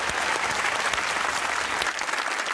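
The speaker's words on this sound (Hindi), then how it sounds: "तालियां होनी चाहिए" Steady studio audience applause on a comedy talk show, dense and sustained clapping from a crowd throughout without a break.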